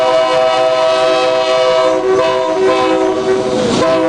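A passenger train arrives at a Nigerian Railway Corporation terminal at night with a loud, steady horn blast sounding over the clatter and rumble of the railcars close by.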